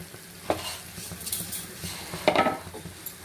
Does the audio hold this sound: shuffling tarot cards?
no